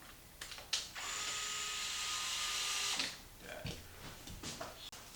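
A power driver fitted with a 2.5 mm hex bit drives one of four screws holding the rear differential cover on an XMaxx RC truck: a steady whine for about two seconds, followed by clicks and handling noises, close and quiet.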